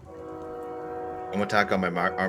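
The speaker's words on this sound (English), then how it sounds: "I hear a train too." A sustained multi-tone train horn sounds for over a second at moderate distance, then gives way to people talking.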